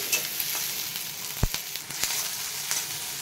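Onion frying in hot oil with cumin and mustard seeds for a Marathi-style brinjal bharit, a steady close sizzle with small crackles and a few sharp pops from spluttering seeds, no voices.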